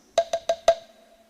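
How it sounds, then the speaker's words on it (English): Four short, bright chime tones ring in quick succession as the page-turn signal of a read-along storybook, the last one slightly longer, then a brief quiet tail. "when it's time for you to turn the page, you'll hear a sound like this."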